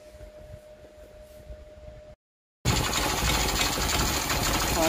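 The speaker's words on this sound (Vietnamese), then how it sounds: "Máy rất là êm nha các bạn. Đó là mình phải đút cái bô vô thì cho nó êm." A Honda Cub CD90 70cc motorcycle engine idling with its exhaust fitted, first a soft, even ticking hum, then after a brief gap a louder, steady mechanical drone close to the microphone; no talking.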